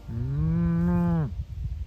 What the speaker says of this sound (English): as the cows just went right on eating